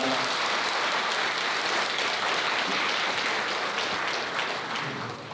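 Guests at a wedding ceremony in Yeoksam's Amoris hall clap together in sustained, dense applause that holds steady for several seconds before softening at the close.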